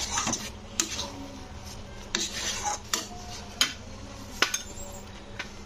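Semolina halwa stirred in a pan over a low flame, a spoon scraping and clinking against the metal in irregular strokes, close and moderately loud with no talking.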